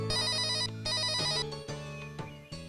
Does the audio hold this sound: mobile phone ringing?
yes